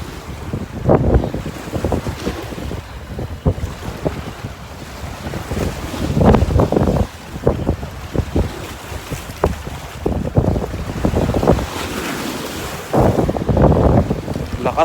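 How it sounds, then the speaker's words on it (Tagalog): Strong cold wind buffets the microphone on a fishing boat, loud gusty roaring bursts alongside water and waves, with a voice speaking briefly amid the noise. "Lakas ng hangin."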